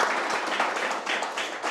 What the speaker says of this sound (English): a big round of applause for Ranjith